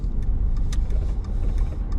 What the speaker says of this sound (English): Oh yeah, that car's coming.